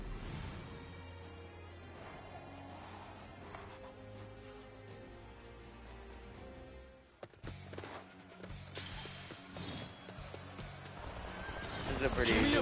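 Horse neighs and clip-clopping hooves in the Dynasty Warriors Origins video game on PS5, set among battle din, music and a voice talking, with a sudden impact partway through and rising clatter toward the end.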